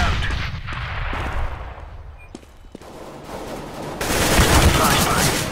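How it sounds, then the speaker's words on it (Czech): Rumbling grenade and flashbang blasts in Counter-Strike: Global Offensive, with muffled booms and bursts of gunfire layered over one another, building to a louder, harsher explosion toward the end. "Deploying flashbang. Grenade out! Grenade out!"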